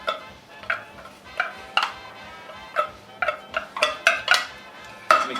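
A utensil stirs drained tuna into pasta in a dish for a tuna pasta bake, making irregular close clinks and soft scrapes against the dish.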